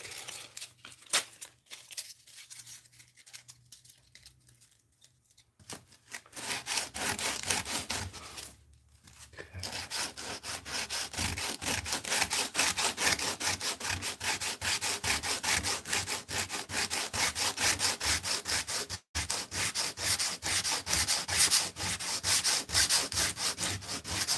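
Steady, rough rasping of a sanding block with 36-grit paper scrubbed back and forth on wood, continuous and close, after a quieter start with a short pause.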